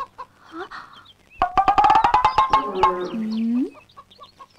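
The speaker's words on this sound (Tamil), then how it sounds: "ஐயோ, கோழி கடிக்குது." A chicken clucks loudly and close, a rapid burst of about a dozen sharp clucks ending in a drawn-out squawk, with a few softer calls before and after.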